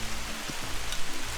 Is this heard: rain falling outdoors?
yes